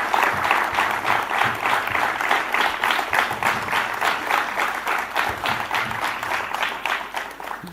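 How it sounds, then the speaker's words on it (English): Audience at an education and AI summit breaking into sustained applause, a steady dense wash of many hands clapping at fairly even loudness from start to finish, with no talk over it. "I request everyone to once again welcome him with a huge round of applause."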